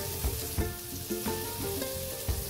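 Taro leaves (kochu saag) going into a frying pan with chickpeas, sizzling steadily and loudly nearby, with a few sharp scraping stirs at regular intervals.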